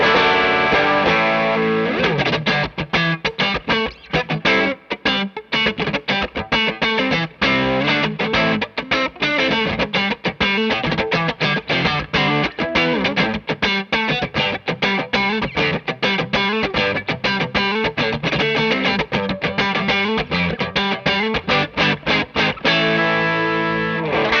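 An electric guitar through the Gladio side of a Cornerstone Imperium Daje Drive overdrive pedal plays continuous, gritty chords and riffs with a thick, saturated tone, loud and sustained throughout.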